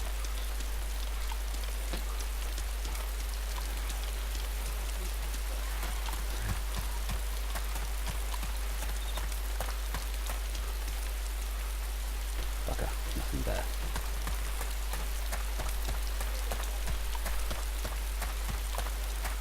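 Heavy rain pours down in the game DayZ, a steady dense patter of drops on surfaces throughout, with faint low rumble underneath and no voices.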